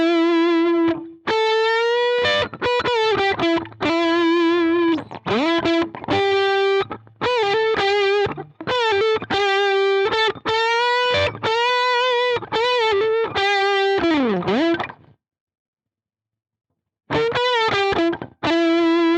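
A guitar played through an Axe-FX III preset with a Bender fuzz drive, completely dry with no delay or reverb: buzzing, heavily saturated notes and chords in choppy phrases, bending near the end, then a pause before a final burst.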